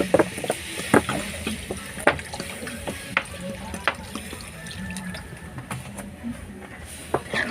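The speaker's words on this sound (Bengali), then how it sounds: "এবার পরিমাণ মতন জল দিয়ে দেব।" Water is poured into Bengali-style chicken curry in a pan after the meat has been browned, with a steady wet sizzle broken by sharp clicks and clatters of stirring close by.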